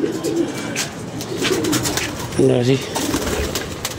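Pigeons coo softly nearby in short, throaty bursts, with a brief call standing out midway, under light outdoor noise and a few spoken words.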